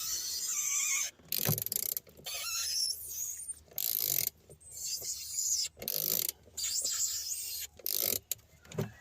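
Sharp metallic ratcheting clicks and creaks come in short bursts separated by brief silences as a glow plug is unscrewed from a Renault Clio 2 1.5 dCi engine, close and fairly quiet.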